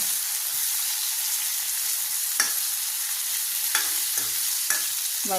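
Radish sautéing in a pan for Tamil kuzhambu gives a steady broadband sizzle, with a few sharp stirring scrapes and clinks scattered over the frying hiss.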